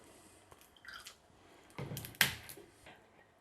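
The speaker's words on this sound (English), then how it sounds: "a squeeze of lime" A lime squeezed over a drink of sparkling cranberry and pineapple juice: quiet, wet squelches and drips, building to one sharper squirt before fading back to near silence.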